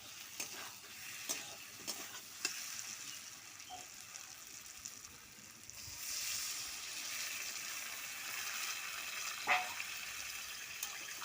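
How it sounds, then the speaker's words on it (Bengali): Water poured into a sizzling pan of Bengali pointed gourd and prawn curry after the spices are fried in oil, giving a steady hiss and bubbling with faint stirring clicks, no talking. "এবার দিয়ে দিচ্ছি আমি জল"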